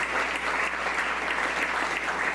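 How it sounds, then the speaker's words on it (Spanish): A church congregation applauding during a service, a thick, even wash of clapping from a large crowd, steady and loud throughout with no break. "Dar un aplauso al Señor"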